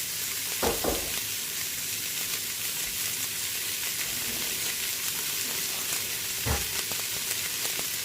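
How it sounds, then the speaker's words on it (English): Onions and carrots sauté in hot oil in a home kitchen with a steady close sizzle, broken by a few louder bursts as the vegetables are stirred or tossed. "Once your oil's nice and hot, we're going to go ahead and toss in our onions and our carrots"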